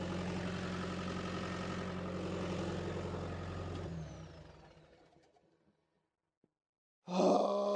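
A bulldozer's hydraulics labor steadily as the blade is lifted and twisted, a loud sustained engine-and-pump drone that fades away, followed by silence and then a brief loud burst of mechanical noise.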